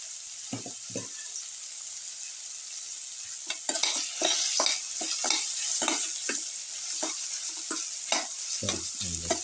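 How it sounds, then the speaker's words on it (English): Cumin and winter melon mixture with curry leaves and salt being stirred in a frying pan, a steady sizzle broken by repeated scraping strokes of the spoon, close and alone. "keep on stirring"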